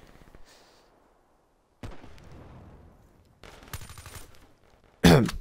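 Suppressed SMG fire in a first-person shooter, the Weevil submachine gun with a silencer: short bursts of muffled automatic shots come in separate clusters with quiet gaps between them, and the last burst is the loudest and sharpest.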